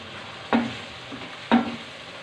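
Masala for a bottle gourd curry roasts in a pan with a little hot water added, giving a low, constant sizzle broken by two sharp stirring scrapes about a second apart.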